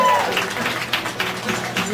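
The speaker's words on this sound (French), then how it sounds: "on les applaudit bien fort." A tavern-style audience claps for new performers about to sing a comic troll song: a loose, close burst of many hands with uneven peaks, lasting about two seconds.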